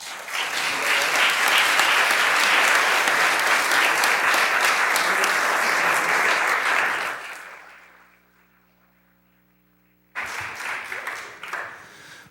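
A city council meeting audience gives a round of applause for veterans: loud, dense clapping sustained for about seven seconds, fading to near silence, then a second burst of clapping resumes near the end.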